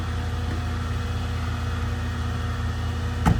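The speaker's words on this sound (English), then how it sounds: "Truck idles up." A 2016 Ram 5500 bucket truck engine idles up with the PTO engaged, a steady close droning hum with a constant low pulse, ending in a brief sharp sound.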